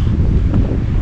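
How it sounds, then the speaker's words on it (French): Strong, continuous wind buffets the microphone with a loud low rumble throughout, the gusts of a stormy day on a hiking trail near Casares heading toward Estepona, with no voices. "il y a vraiment des très très grosses rafales"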